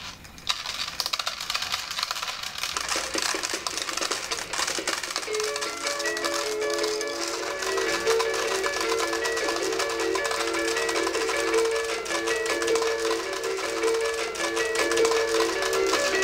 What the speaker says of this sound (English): The top will continue to spin as long as you activate your switch.